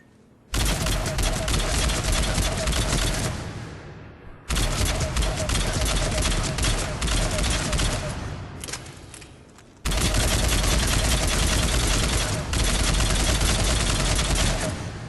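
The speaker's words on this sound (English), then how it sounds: "You could full auto with this weapon for headshots at short range" A Phaeston rifle fires on full auto in Mass Effect 3, coming as three long, loud sustained bursts of rapid gunfire separated by short pauses.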